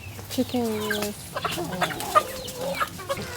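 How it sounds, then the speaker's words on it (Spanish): Chickens cluck in a rural Cuban farmyard, with several short, irregular clucks and squawks close by over a quiet background. "Mira. The chicken."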